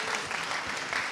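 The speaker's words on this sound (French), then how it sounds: "On peut peut-être l'applaudir, Louise, parce que..." Audience applause at a public debate in Lyon's city hall: a dense, steady wash of many hands clapping, continuous and even throughout.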